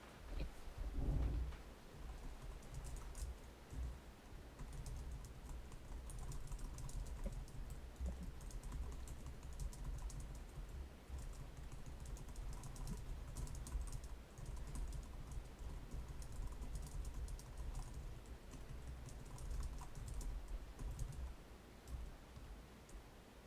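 Players shuffling Magic: The Gathering cards at a regional championship tournament, a continuous fine patter of soft clicks and riffles with faint room murmur, no voices, steady and moderately close.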